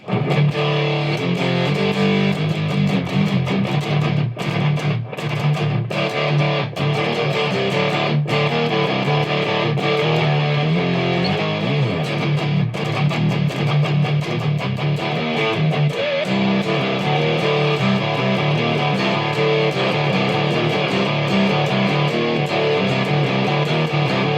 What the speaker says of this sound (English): Let's put more on distortion, a little bit more.